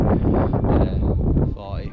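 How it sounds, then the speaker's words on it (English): Strong gusting wind on a Lake District mountain summit buffets the microphone with heavy, roaring rumble, while someone speaks close over it. "The wind is strong"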